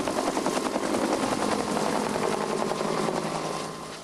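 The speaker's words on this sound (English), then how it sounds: "the relics were flown by helicopter to the pilgrimage island of Lough Derg in County Donegal" A helicopter carrying relics to the pilgrimage island of Lough Derg in County Donegal flies close by. Its rotor beats chop loudly and steadily throughout, with no speech, and ease off slightly at the very end.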